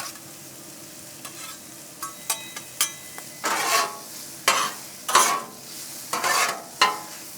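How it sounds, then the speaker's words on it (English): Bacon and sausage fry on a Blackstone 22-inch XL griddle with a steady, soft sizzle. A spatula scrapes and stirs against the metal surface in a series of sharp, irregular strokes. "So we'll let that bacon and that sausage kind of cook up a little bit"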